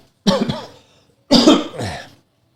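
Two separate coughs, close and fairly loud, each a harsh burst trailing off, with a short silence between them.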